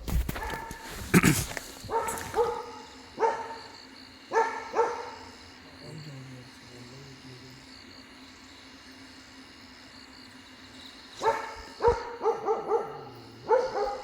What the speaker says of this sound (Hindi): ये वाला दूसरा वाला कुत्ता भौंक रहा है ना उधर